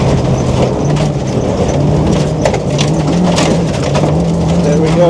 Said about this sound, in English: As fast as the little Micra can go